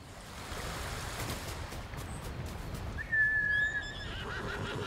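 A horse ridden in the video game Ghost of Tsushima, soft hoof clip-clop under a steady wash of wind or surf, with a sharp whinny near the end and no talk.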